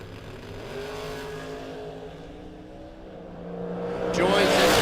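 A 1967 Chevelle and a 1969 Chevelle rumble through a drag race at the Mutt and Jeff event, their engines droning steadily, then swelling louder and rougher near the end as the cars rev hard.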